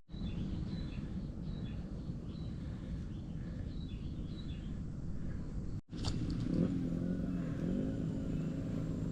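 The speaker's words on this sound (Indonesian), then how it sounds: "Masih terdengar suara motor," Motorcycles are audible in the distance from a mountain trail near Soreang, a steady engine drone with a brief break, while birds call faintly over it.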